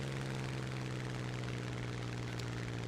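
A Ju-87 dive bomber in War Thunder drones with a steady, even propeller engine hum, faint and continuous, with no voices over it.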